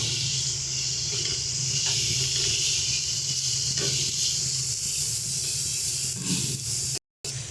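Ground coriander, cumin and salt hiss and sizzle steadily as they fry in a pan for a Bengali-style prawn curry. The sound stays close and continuous, with faint stirring knocks and no talk.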